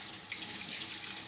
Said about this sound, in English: So I'm just gonna put the water from the tap.